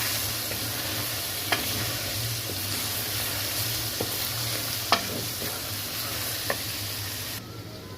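Two tablespoons of ginger garlic paste fry in hot oil for chicken nihari, giving a steady loud sizzle with a few clicks of a spoon as it is stirred, close up and with no talking.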